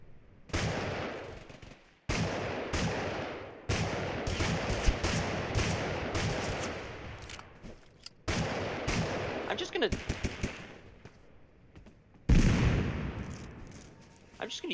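An MP40 submachine gun rattles out long bursts of rapid automatic fire in the video game TABG, loud and dense with brief pauses between strings of shots.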